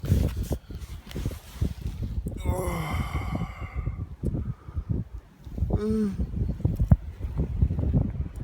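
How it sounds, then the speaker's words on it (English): Gusty morning wind at a riverbank campsite buffets the microphone with steady low rumbling, with a couple of brief higher tonal whistles or calls rising briefly above it. "A little bit windy this morning."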